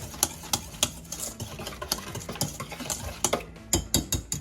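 Vinegar dressing for coleslaw being whisked in a bowl, with rapid, irregular clicking and tapping of a whisk against the sides, fairly close and with no talking.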